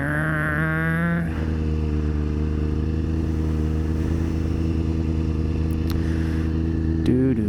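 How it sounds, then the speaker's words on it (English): A Subaru WRX STI's boxer engine rumbles nearby with a steady, burbling low drone, heard from inside the car with brief revs at the start and near the end, and a person talks over it. "Little boxer engine."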